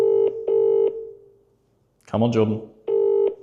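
A phone call ringing out, with repeated paired electronic ring tones, a pause, then another ring as someone speaks briefly between them.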